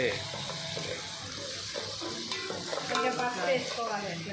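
Spices tempering in hot oil for a chicken curry, a steady close sizzle and frying crackle with stirring clatter throughout, under faint background voices.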